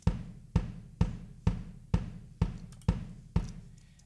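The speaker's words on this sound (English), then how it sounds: "This was a large room and one of my DW bass drums" A DW bass drum in a large room, captured by a Coles 4038 ribbon mic set about three feet in front, thumps eight times at a steady, even pace, each deep hit ringing briefly into the room before the next.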